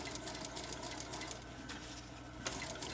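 A sewing machine runs steadily for about three seconds, stitching a back tack through thick layers of a sukajan-style jacket, with a continuous close whir and a brief bump near the end.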